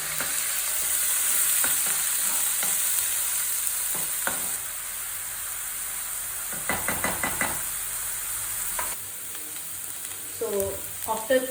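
Onion paste frying in hot oil in a kadai with mint leaves for an Andhra-style prawn curry, a steady loud sizzle throughout with scattered knocks and stirring scrapes of a utensil, and brief clatter near the end.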